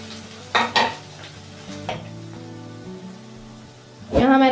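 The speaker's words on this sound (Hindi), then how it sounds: "अब इसको अच्छी तरह फ्राई कर लेंगे ताकि अदरक और लहसुन का जो कच्चापन है वो ख़त्म हो जाए" Ginger garlic paste fries with onions in a pan, giving a soft sizzle broken by a few scraping stirs and utensil clinks, ending in a louder burst of frying.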